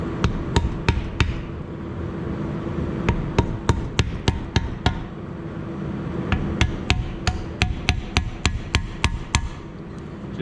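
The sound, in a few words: claw hammer striking brake parts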